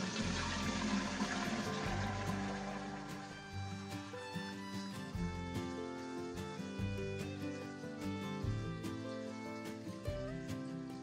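Fermented banana water poured from one bucket into another, a steady continuous splashing and gurgling that runs loud and unbroken for the whole stretch, with no talking.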